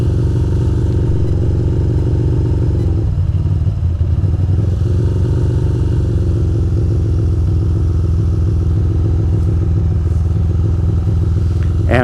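Ducati motorcycle engine running steadily and loudly up close while riding through Manhattan streets, a continuous low throbbing rumble with a brief rev change partway through, no talk.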